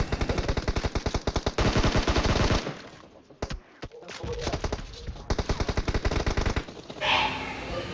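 Rapid bursts of automatic gunfire from a battle royale video game, close and loud, in several rattling volleys separated by a quieter stretch of softer shots and movement.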